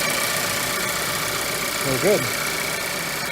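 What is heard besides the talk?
2012 Ford Focus SE engine running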